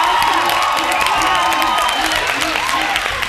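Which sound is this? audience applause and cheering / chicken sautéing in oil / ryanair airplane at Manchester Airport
audience applause and cheering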